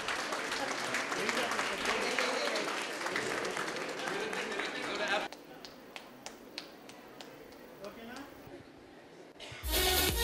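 Audience applause at a church dignitary's anniversary event at a dental college, a dense crowd clapping loudly for several seconds, then thinning to scattered claps before swelling again at the end.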